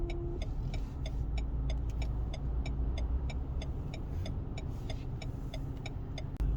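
A manual car driving slowly in traffic after shifting into first gear, with a steady low engine rumble and a regular ticking, like an indicator, clicking throughout.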